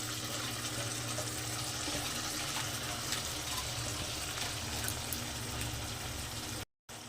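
Marinated raw chicken dropped into a pan of frying onions for chicken kalia, a steady broad sizzling hiss throughout that cuts out briefly near the end.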